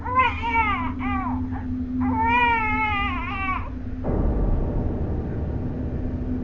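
A baby's cry serves as a horror-story sound effect: wavering, rising and falling wails in several bursts, then a rumbling low drone taking over near the end.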